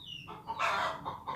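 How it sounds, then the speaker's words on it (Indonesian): Chicken clucking nearby, with a few loud, raspy squawking bursts in quick succession, fairly close and clear, with no talking over it. "Ada suara ayam."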